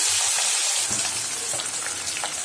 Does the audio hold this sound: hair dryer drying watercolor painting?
no